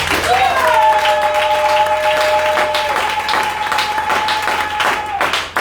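A church congregation applauds loudly and steadily for several seconds, a dense wash of clapping under a sustained voice or sung note.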